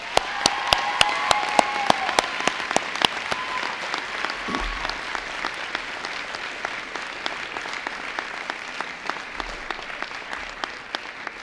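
Audience applause fills the hall at an awards ceremony, a broad wash of many hands with several louder, sharper claps standing out near the front, steady throughout and slowly thinning toward the end.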